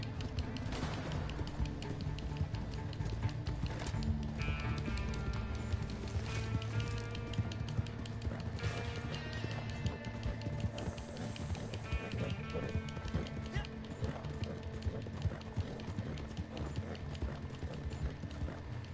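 Horse hooves galloping in the video game Red Dead Redemption 2, a fast, continuous clip-clop rhythm pounding on without a break, mixed with game music and ambient rumble.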